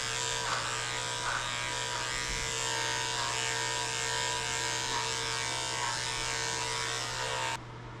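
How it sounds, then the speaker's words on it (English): Electric clippers fitted with a number 1 comb hum steadily while trimming an Australian Shepherd's coat, a constant close buzz with faint brushing pulses as the blade moves through fur, quieting abruptly at the end. "I'm using a number 1 comb attachment on her back end"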